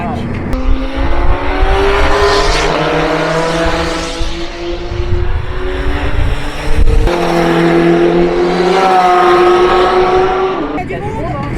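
Porsche 993 race car accelerating on a track, its engine heard from inside the car rising in pitch through the gears, loud and close, while people talk over it.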